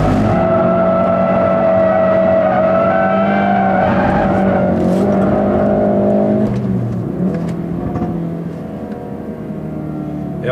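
A 2016 Ford Focus RS with a 350 PS engine drives hard in Valencia, its loud, steady engine note rising and falling as the tires skid and squeal. The car stays close and continuous throughout, then eases to a lower drone near the end.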